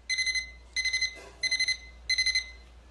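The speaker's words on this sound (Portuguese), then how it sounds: "O alarme pra ver se você acorda" An alarm clock rings in four bursts of rapid electronic beeps, each burst a quick cluster of pulses separated by short pauses, clear and fairly close.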